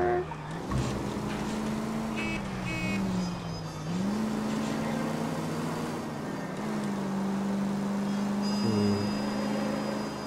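Police car being driven in a video game, with a steady engine drone that rises and falls in pitch as it shifts and accelerates, running continuously under talking voices.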